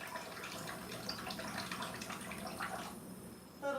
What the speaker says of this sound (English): I'm gonna put a little drop of water.